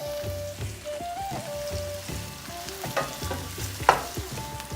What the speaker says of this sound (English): In go ginger and green chili. In goes a sliced red onion.